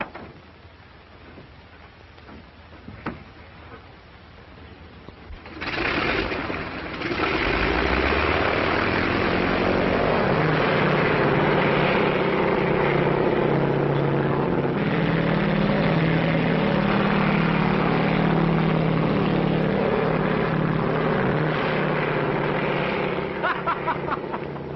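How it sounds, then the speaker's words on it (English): A vintage propeller airplane engine starts up before take-off in a 1937 transatlantic-flight setting, a steady loud droning roar that holds for about twenty seconds after quieter early moments, with little else audible. "Bill, you going to take off?"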